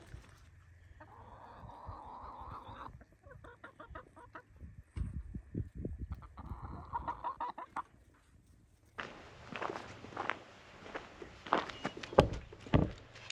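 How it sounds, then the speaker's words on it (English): Chickens cluck and murmur nearby in scattered bursts near a greenhouse, with footsteps shuffling and rustling louder toward the end. "Stinking chickens."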